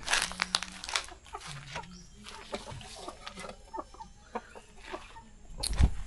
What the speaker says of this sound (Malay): Ni ayam kampung.